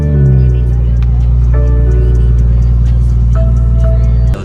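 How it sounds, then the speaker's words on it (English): Freshly flashed with an MHD stage 2 tune and upgraded fuel pump, a BMW M240i settles into a loud, steady idle right after startup, its deep rumble carrying a firm tonal hum that barely wavers. "First startup after flashing MHD stage 2."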